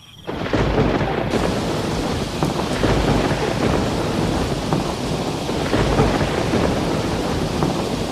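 A night thunderstorm breaks in with a sudden roll of thunder, then heavy rain pours steadily and loudly throughout, a dense continuous wash with deep rumbling underneath and no voices.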